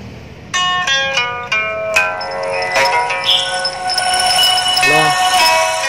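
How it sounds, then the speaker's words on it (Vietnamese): A Lumia 430 phone plays a ringtone test: bright chiming bell-like tones in quick succession building into a sustained melodic jingle, loud and close, with a voice murmuring briefly beneath it. "Mình thử cái chuông nữa anh em coi thử nha"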